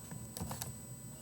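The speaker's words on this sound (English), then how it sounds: "I'm just going to type it." Fingers tap out a short burst of quiet, close keystrokes on a computer keyboard, a few quick clicks in a row.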